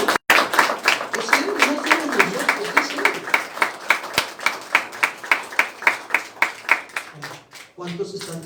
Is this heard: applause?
yes